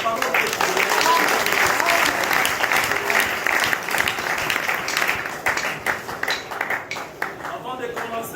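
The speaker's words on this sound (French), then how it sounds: "On peut acclamer pour la parole de Dieu" A congregation gathered for a sermon at a central prison breaks into sustained applause, dense and loud at first, then thinning into scattered claps toward the end.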